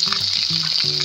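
A spoonful of ginger paste hits hot oil in a pan, giving a steady close sizzle for about a second, with faint stirring scrapes and no talking.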